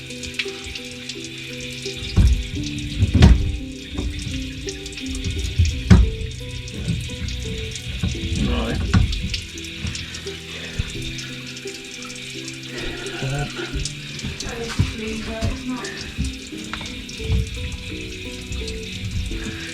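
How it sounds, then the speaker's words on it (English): Water gushes and splashes steadily from a burst pipe, hissing and spattering with occasional louder surges; faint voices are heard briefly. "can you stop the water running out of there?"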